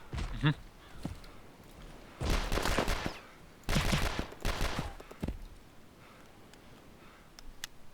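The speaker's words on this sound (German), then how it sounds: "Ich schieß Zombies nieder." Bursts of gunfire in the video game DayZ as zombies are shot down, several rapid volleys separated by pauses, fairly close.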